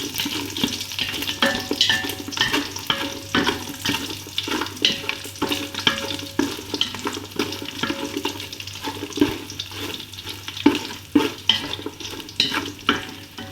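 Chicken fries in hot oil for kottu, giving a steady, dense sizzle with a constant hiss broken by frequent crackles and splutters throughout, with no talking.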